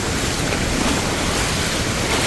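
A waterfall right beside a house, with a river flowing in front, gives a loud, steady broadband rush of falling and running water that continues unbroken with no voices.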